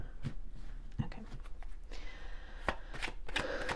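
A deck of tarot cards is shuffled close by, with a steady rustle broken by crisp riffling snaps and taps. No voices are heard.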